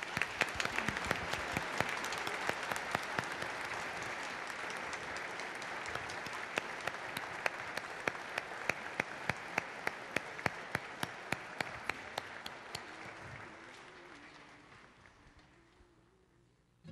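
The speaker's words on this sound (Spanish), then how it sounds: "Un aplauso grande para estos hermanos nuestros." A church congregation at a prayer and solidarity service for the Amazon applauds steadily for about seventeen seconds, a dense roomful of hand claps that holds strong before thinning and fading out near the end.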